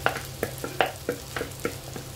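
Fried grilled chicken going into a hot pan with eggplant, giving a close, steady sizzle broken by regular light scraping clacks of stirring, roughly three per second.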